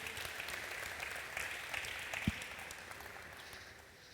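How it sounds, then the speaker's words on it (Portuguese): A church congregation claps together at a Brazilian evangelical service, a steady, fairly soft wash of applause with a few sharper claps standing out. "vamos aplaudir o Senhor"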